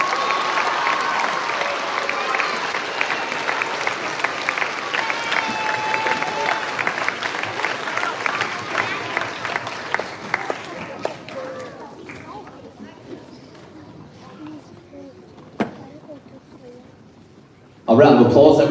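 A school assembly audience applauds its new head students, dense clapping filling the hall for around ten seconds before thinning into scattered claps, and then a loud burst of sound arrives near the end.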